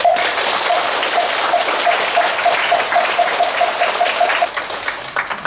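A temple audience at a Buddhist Wednesday dharma service gives a monk sustained applause after his sermon; dense, steady clapping fills the room, with a faint repeating tone running beneath it.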